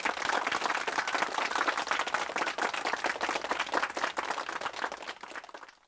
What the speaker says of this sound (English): Please give them a warm round of applause for Victor and Melissa.